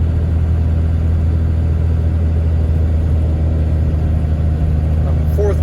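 A Cummins diesel truck with a K27 turbo lugs at low revs in fourth gear while towing, a steady loud engine drone and rumble with no break, heard from inside the cab.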